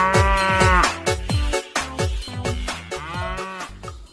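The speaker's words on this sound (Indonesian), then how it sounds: "Ini namanya" A blue long-horned cartoon water buffalo lows several times in loud, bellowing bursts, each call close and rising then falling, with short pauses in between.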